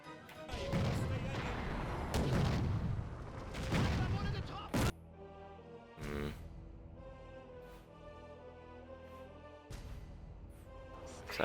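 Tank and artillery fire in a World War II strategy game, heavy rumbling barrages early on, then scattered deep booms and thuds with a lingering background hum, while someone talks over the battle.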